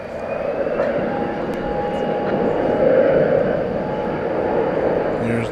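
A Cargolux cargo aircraft taxis across the bridge at DFW Airport in the evening, producing a steady, distant engine rumble and whine that swells slightly partway through before easing off.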